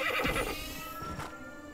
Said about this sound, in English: Come on, horse. Speed it up.